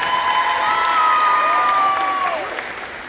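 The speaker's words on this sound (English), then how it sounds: "Give a second round of applause to Miss Kaylin White." A crowd applauds a volleyball senior at a high school senior night ceremony, steady clapping and light cheering filling the space, with tonal sounds over it.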